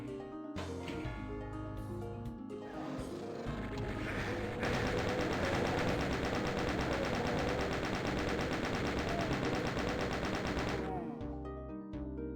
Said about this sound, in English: do people really love the plasma gun sound effect from Doom 3